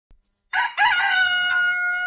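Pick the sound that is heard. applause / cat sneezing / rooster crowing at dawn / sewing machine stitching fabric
rooster crowing at dawn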